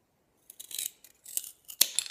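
A small stick for a fairy garden dock is snipped in a few quiet, close crisp cuts spread over a couple of seconds, with one sharper snap near the end.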